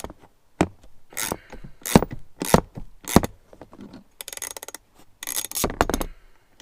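A ratchet works loose a long 10 mm e-brake bolt on a Jeep Wrangler JL, JT or Gladiator, giving bursts of sharp close clicks and metallic rasps separated by short pauses.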